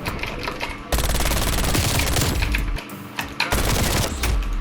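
Rapid MAC-10 submachine gun bursts from Call of Duty: Black Ops Cold War, loud and close, long sustained automatic fire that breaks off briefly and then resumes.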